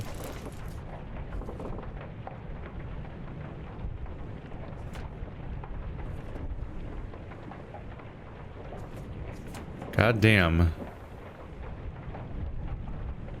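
In Return of the Obra Dinn, a cannon crushes a ship's steward: a sudden heavy crash and crunch stands out briefly against low rumbling ship ambience, with a man cursing quietly.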